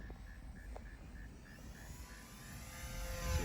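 An FMS 800mm warbird RC model plane flies overhead, its electric motor a thin steady buzz with a pulsing whine that swells louder toward the end as it passes nearer.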